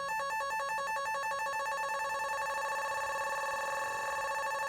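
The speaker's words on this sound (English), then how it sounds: "Let's just take oscillators 2 and 3 and noise out for now. Let's just use a square wave." A Studiologic Sledge synthesizer plays a single square-wave oscillator with the other oscillators and noise switched off, giving a buzzy, hollow tone that pulses rapidly at first and then settles into a steady, sustained note.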